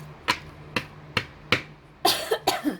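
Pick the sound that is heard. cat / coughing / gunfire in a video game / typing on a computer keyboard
coughing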